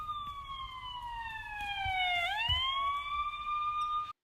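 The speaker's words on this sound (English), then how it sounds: "Let's see how the Doppler effect changes the pitch of the siren." Police car siren passing close by with a clear Doppler shift, a loud steady wail that slides down in pitch as it nears and then settles lower as it moves away.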